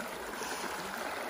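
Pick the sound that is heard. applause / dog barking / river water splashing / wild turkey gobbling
river water splashing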